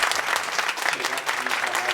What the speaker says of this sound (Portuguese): eu queria uma salva de palmas para ela